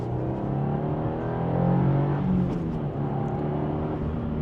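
A 2025 Subaru WRX tS pulls hard at full throttle in second gear, its engine note climbing steadily in pitch from inside the cabin, swelling louder midway, then easing slightly as revs level off.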